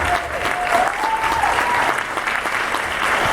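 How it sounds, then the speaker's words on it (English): Steady, full applause from a seated audience at a book club event for the planning committee, with a brief whistle-like tone early and no talk over it. "let's give them a big round of applause"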